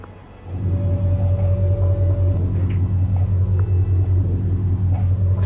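Transport trucks roll along in the strategy game World in Conflict, a steady heavy engine rumble that swells in after a quiet start and holds loud and constant.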